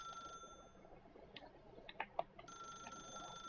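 A desk telephone rings in The Stanley Parable video game, giving a few short, bright trilling bursts at moderate volume in a quiet room, with no one talking.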